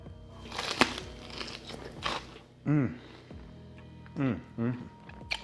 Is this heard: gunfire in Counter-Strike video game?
no